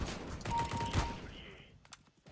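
A sniper rifle firing in CS:GO: a loud, close gunshot burst with a long rumbling tail, followed by a couple of fainter distant shots, under background game noise and a little speech.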